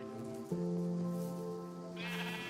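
A sheep in a video game sheep farm lets out a loud, sustained bleat, clear and close, with a second wavering bleat rising near the end.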